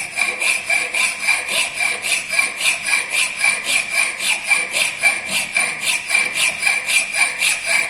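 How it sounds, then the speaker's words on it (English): A flat file rasps across the top surface of a metal workpiece in a steady back-and-forth rhythm of about twenty loud, close strokes, each a harsh scraping swell, with no talk. "This flat file is used for filing the upper portion of the workpiece."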